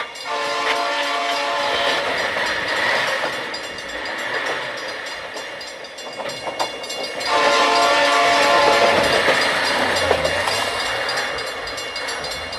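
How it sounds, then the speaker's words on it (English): A train rumbles past with a steady rattling roar, its horn blaring in long tones that swell, fade briefly, then return loudly. "I could hear its bell ringing and the cry of its whistle."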